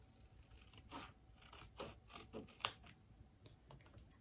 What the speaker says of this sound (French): je découpe la petite étiquette